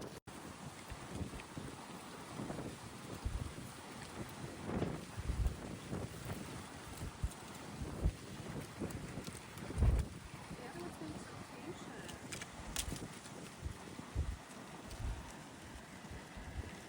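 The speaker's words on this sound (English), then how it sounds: "It's windy." Steady wind buffets the microphone with rumbling gusts at a campsite in Savuti, Botswana, while people talk intermittently underneath.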